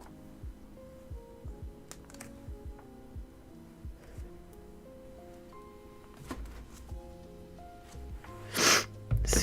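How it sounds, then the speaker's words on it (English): Close, soft sniffles in a quiet room with faint background hum and small tapping, ending in a louder breathy sniff near the end. "Excuse me, excuse my sniffles."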